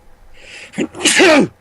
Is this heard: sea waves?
no